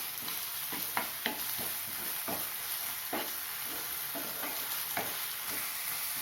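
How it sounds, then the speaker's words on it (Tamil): Ginger garlic paste sizzles and is stirred in a hot pan for a capsicum masala curry, with a steady frying hiss and occasional spoon scrapes against the pan. "இப்போ 2 ஸ்பூன் இஞ்சி பூண்டு விழுது, அதையும் சேர்த்து 1 நிமிஷம் வதக்கணும்"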